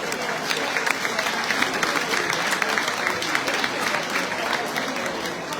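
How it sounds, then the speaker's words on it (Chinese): A banquet crowd at a farewell dinner applauds the commission chairman, sustained dense clapping filling the room at steady volume. "在这里，我们再次给我们的委员长掌声"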